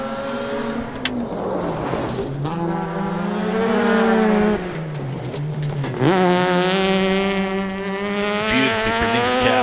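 A Mazda RX-7 rotary rally car on a gravel rally stage approaches and passes, its high buzzing rotary engine rising and falling through gear changes, loud and close, revving hard with strong harmonic whine.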